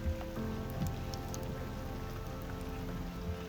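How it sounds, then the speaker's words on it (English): Steady rain patters and taps on wet rock in a canyon, a continuous close wash of drops with occasional sharper ticks. "wet rock, green moss, and rain tapping through the canyon."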